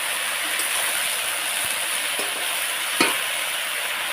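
Washed taro pieces are stirred and fried in a pan, producing a dense, steady sizzle close by, with a few soft knocks of the spoon and one sharper clack near the end, without speech.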